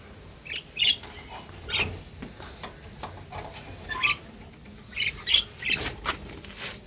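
Colony-kept pet birds gather to feed, giving scattered short chirps and squawks mixed with light ticking, pattering movement, in irregular bursts at close range.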